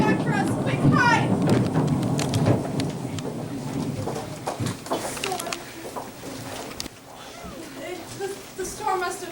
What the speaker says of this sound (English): The storm must have hit me because I heard a terrible crack.